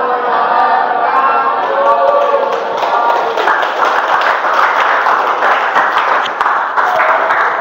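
Steady applause from a classroom audience after a student presentation, continuous clapping filling the room at a loud, even level, with some crowd voices mixed in.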